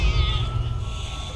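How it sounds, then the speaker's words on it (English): A pet cat in the Fallout 76 video game gives a single short meow inside a small player camp shed, close and clear over faint background hum. "a cat"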